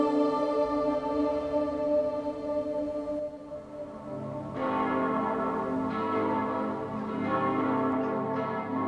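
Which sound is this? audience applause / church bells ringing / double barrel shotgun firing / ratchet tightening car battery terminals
church bells ringing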